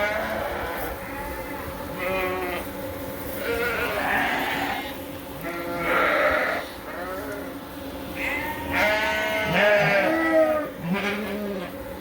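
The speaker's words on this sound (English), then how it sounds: "Just feeding the lambs right now." Sheep and lambs bleating on a farm at feeding time, many overlapping calls rising and falling close by over a steady outdoor background, with rain just starting.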